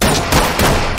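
Flashbang grenade detonating in the Ready or Not tactical shooter, a loud, close blast with a harsh crackling burst that repeats in quick succession across a second.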